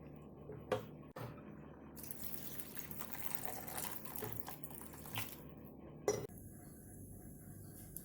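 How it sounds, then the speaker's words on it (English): Warm water runs and splashes into a metal cooking pot for lentil and rice khichdi, a steady rushing pour punctuated by a few sharp clanks of cookware. "I'm adding in warm water to speed up the cooking process."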